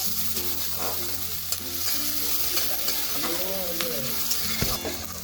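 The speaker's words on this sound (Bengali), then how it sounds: "পেঁয়াজটাকে একটু নাড়িয়ে চাড়িয়ে নরম করে ভেজে নেব" Finely chopped onions fry in a pan with a dense, close sizzle while a utensil stirs and scrapes them in repeated strokes, and a faint hum runs underneath.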